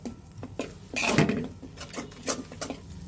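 A spatula scrapes and clinks in a pan as prawns are stir-fried with chili, turmeric and coriander powder and spring onion stalks. The strokes come close and irregular, with one louder clattering burst and no talking.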